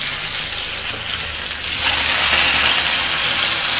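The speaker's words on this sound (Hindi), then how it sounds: "इसके साथ अरबी को ऐसे ही फ्राई होने देंगे धीमी आंच पे, ऐसे ही फ्राई होने देंगे सिर्फ नमक डाल के।" Peeled taro root pieces fry with salt in a pan over a low flame, giving a steady, close sizzle and crackle that grows slightly louder partway through, with no talking.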